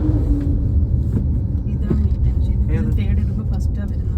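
A Swift Dzire petrol car drives on after a gear shift during a driving lesson in Attingal, its steady engine rumble and road noise running throughout beneath a person talking.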